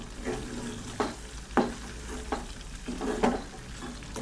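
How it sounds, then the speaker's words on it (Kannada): Puliyogare spice powder frying in a pan, with repeated scraping stir strokes, roughly five, over a low steady sizzle, close but fairly quiet, no speech. "ಸ್ವಲ್ಪ ಫ್ರೈ ಮಾಡ್ಕೊಳ್ಳೋಣ ಪೌಡ್ರನ್ನ"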